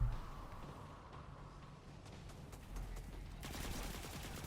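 Submachine gun fire in Destiny 2, a steady stream of rapid shots with dense crackle that grows busier and brighter toward the end, set over a low rumbling game backdrop with no talk.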